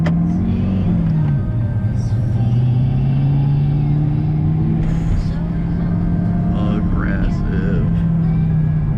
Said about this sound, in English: Dude, we're driving an R8 right now.